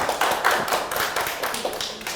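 Students in a Korean real estate law lecture clap, a close, uneven patter of hand claps and taps with no speech.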